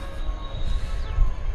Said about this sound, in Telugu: ఇదొక ట్రైన్.